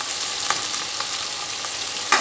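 Small cut potato and eggplant pieces fry in a pan with green chillies, giving a steady, even sizzle with a few faint stirring clicks and a sharper scrape near the end.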